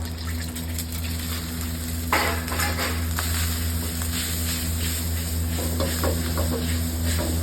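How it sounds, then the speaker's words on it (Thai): Egg and rice stir-frying in a seasoned iron wok, a steady close sizzle and hiss with scraping stirs and a brief sharper burst partway through, over a constant kitchen hum, no talking. "เป็นการที่เราลงไข่ แล้วก็ลงข้าวไปตอนที่ ไข่ยังไม่สุกเลยนะครับ"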